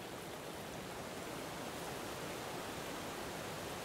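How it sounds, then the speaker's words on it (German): Steady broadband rush of a waterfall in the video game Farathan, a continuous hiss of falling water with no breaks, fairly quiet and heard alone. "Ist der Wasserfall auch sehr angenehm."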